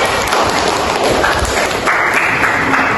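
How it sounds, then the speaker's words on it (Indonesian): Classroom applause from a group of pupils praising a classmate; loud, dense clapping held steady and close for the whole stretch. "Tepuk tangan semuanya"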